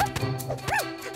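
Cartoon puppies from the animated series Super Wings giving a few quick high yips and a short bark, close and fairly faint, with no talking.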